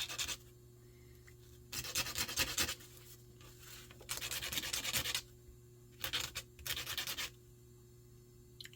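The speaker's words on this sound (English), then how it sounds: "Maybe we just need some sandpaper." Sandpaper rubbed by hand in a garage to blunt and shape a tip: several bursts of dry rasping strokes, each lasting about a second, with short pauses between them, close and moderately loud over a steady low hum.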